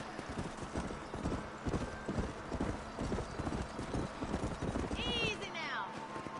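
A horse gallops at speed in the video game Red Dead Redemption during a horse race, with steady rhythmic hoofbeats throughout and a brief whinny near the end, beneath a faint background voice.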